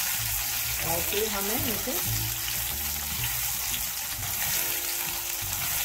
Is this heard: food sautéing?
yes